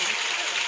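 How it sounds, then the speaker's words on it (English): Clapping sound effect played on a live talk show, a brief dense burst of many hands clapping, steady and loud throughout. "Where's the clapping?"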